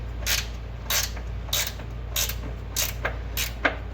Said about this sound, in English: So we'll get a socket on the other end and just loosen it up a little bit.